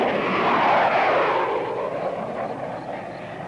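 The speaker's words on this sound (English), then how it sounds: "that's a plane taking off" A broad, roaring aircraft engine swells and then slowly fades, a single continuous rush of noise without talk.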